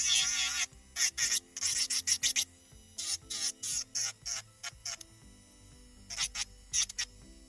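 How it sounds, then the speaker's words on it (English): An electric nail file fitted with a 180 grit sanding band buffs natural nails in short, close, gritty bursts of abrasive whirring that stop and start in an uneven rhythm. "I've got my 180 grit sanding band, and we're just going to go ahead and get those buffed"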